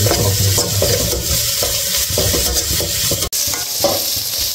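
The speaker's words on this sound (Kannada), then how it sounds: "ಈರುಳ್ಳಿ ಸ್ವಲ್ಪ ಫ್ರೈ ಆಗಿದ್ದರೆ ಈ ಚಿಕನ್ ಹಾಕ್ಕೊಂಡು ಅದ್ರ ಜೊತೆ ಸ್ವಲ್ಪ ಫ್ರೈ ಮಾಡ್ಕೊಂಡು" Onions fry loudly in oil in a pan for chicken egg fried rice, a constant close sizzle with rhythmic scraping and stirring strokes and one brief cut near the end.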